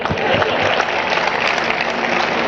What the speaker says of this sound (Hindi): मेरे स्वागत में एक बार फिर दोबारा जोरदार तालियां बजाएं